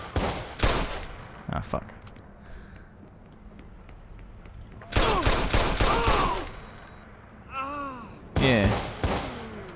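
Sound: gunfire in the video game Watch Dogs

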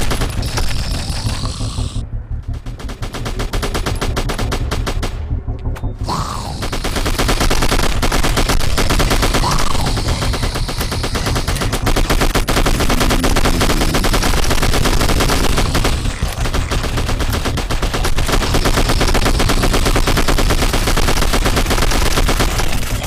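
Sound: gunfire in a zombie shooter video game

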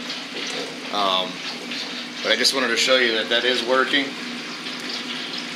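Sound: water flowing from auto top off hose into bucket

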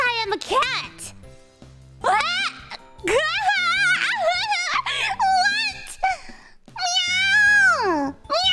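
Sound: voice imitating a cat meowing

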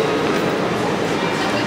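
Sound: Walt Disney World monorail riding

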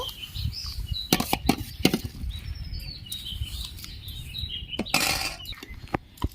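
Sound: washed lentils added to a pot of hot water

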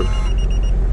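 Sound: buzzer at a guard booth

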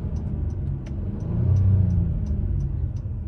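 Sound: 2021 Honda Pilot engine revving in sport mode

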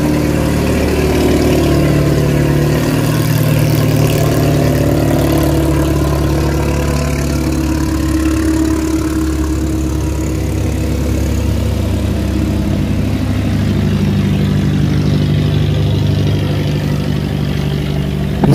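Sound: engine of a stone-laden barge accelerating

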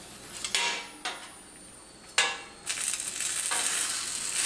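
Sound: Hatch chili peppers blistering and charring in the oven

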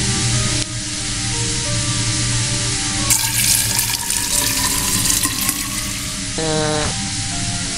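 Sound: water running from a turned-on tap in the video game Fran Bow

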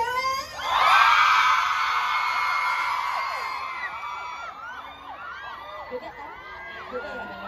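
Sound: festival crowd of girls screaming

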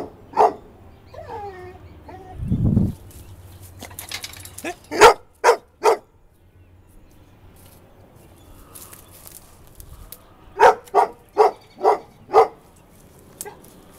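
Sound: dog barking

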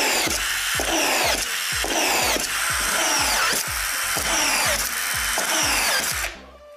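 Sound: cordless screwdriver driving screws into a workbench

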